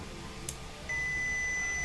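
A steady electronic buzzer tone from a custom low-voltage disconnect for a 48V system switches on partway through and holds continuously to the end, with a brief click just before it.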